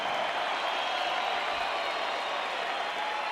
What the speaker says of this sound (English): a round of applause for these two warriors in the ring